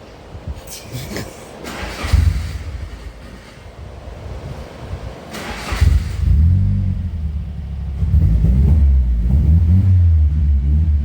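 Nissan 240SX drift car engine under rebuild testing, revving in a few surges that build into a loud, steady low rumble toward the end, with no talk over it.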